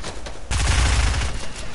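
A video game fusillade, loud rapid gunfire that jumps in sharply halfway through and then keeps up a dense, unbroken volley.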